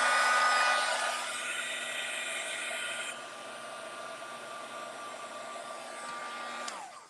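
A hair dryer blows steadily at close range to dry a still-wet painted surface, a constant whooshing hum that drops slightly in pitch partway through before switching off at the end.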